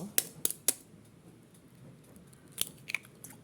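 Eggs being beaten in a bowl for a bitter gourd dish: a few sharp clicks of utensil against bowl in two short bursts, over a quiet background.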